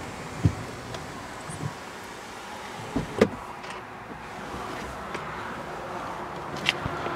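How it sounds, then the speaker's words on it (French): Electric roof motor on a Volkswagen Sharan 2.0 TDI 150 with DSG6 gearbox, opening or closing as a soft, steady hum inside the cabin, broken by a few faint clicks and knocks. "Et le toit, vous allez pouvoir ouvrir ou fermer"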